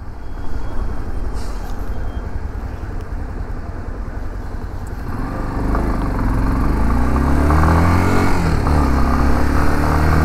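A 2023 Honda Lander 250 motorcycle being ridden, its engine rumbling continuously up close with a louder, rising drone in the second half as it picks up speed, plus wind noise.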